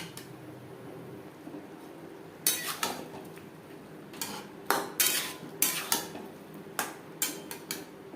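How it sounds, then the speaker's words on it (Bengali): Masoor lentils and chopped papaya stirred in a cooking pan, a spoon scraping and knocking against the metal in irregular bursts over a soft steady background hiss. "দু তিন মিনিট পেঁপের সাথে ডাল নাড়াচাড়া করে নেব"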